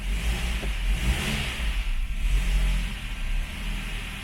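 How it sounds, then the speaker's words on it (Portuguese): A Ford Focus engine, running again after fuel pump work, revs up under the throttle in a few rising and falling pulls over a steady idle, close and loud, with no speech. "Vamos ver se ele aceita um pouco de aceleração."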